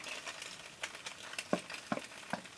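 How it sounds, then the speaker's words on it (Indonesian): Thinly sliced garlic and shallots sautéing in a pan, a soft steady sizzle broken by a few sharp scrapes and clicks of a utensil stirring, close and fairly quiet with no voices. "Kemudian masukkan bawang putih dan bawang merah yang sudah diiris tipis."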